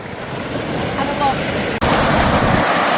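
Ocean waves roll in at a beach as a steady, loud surf roar, rough with wind buffeting the microphone and broken by a brief dropout.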